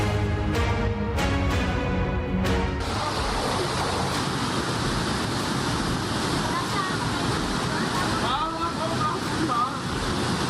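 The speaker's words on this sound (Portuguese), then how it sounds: "As águas desceram pelas ruas, arrastando tudo." Floodwater after heavy rain rushes through city streets as a dense, continuous roar, loud and close throughout, with a few brief tonal sounds near the start.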